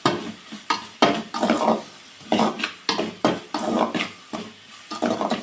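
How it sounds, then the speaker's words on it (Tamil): Crushed garlic sautés with chopped capsicum in a hot pan for capsicum rice, sizzling steadily while a spoon stirs and scrapes in repeated bursts, close and fairly loud. "பூண்டை ஆட் பண்ணி இதையும் நல்லா வதக்கிக்கலாம்."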